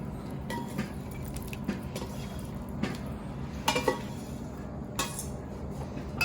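A metal spoon scrapes and clinks against a pot as leftover fried meat masala is spooned onto Kabuli rice, with scattered sharp knocks and clatters over a quiet kitchen background.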